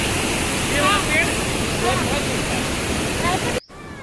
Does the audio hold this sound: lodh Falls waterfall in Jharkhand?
yes